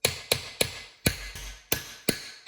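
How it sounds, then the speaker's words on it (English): Light, evenly spaced metallic taps as a socket drives a bearing into place during a Banshee clutch and water pump install, about eight crisp close knocks over a quiet workshop background. "get you a socket that is the same size as the bearing, as the outside of the bearing, and lightly tap it in"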